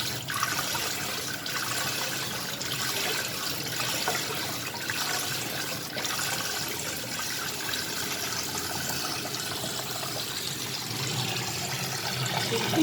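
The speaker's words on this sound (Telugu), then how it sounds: "చికెన్ కడిగేప్పుడు" Raw chicken being rinsed in water in a kitchen, part of a large batch of chicken rice: a constant loud splashing, sloshing rush of water that holds steady the whole time, with no voices over it.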